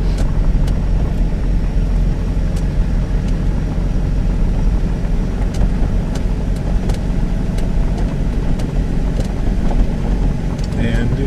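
A car climbs slowly uphill in low gear toward a ridge on the north coast of the Dominican Republic. Its steady engine drone stays loud and continuous from inside the vehicle, with faint ticks and knocks over it and no talking.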